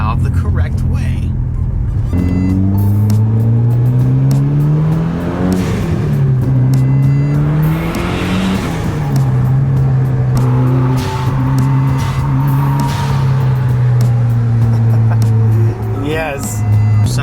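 A Mitsubishi Evo X engine revs hard and loud up close, rising and falling over several throttle blips, with blow-off valve whooshes between pulls and a voice talking in the background.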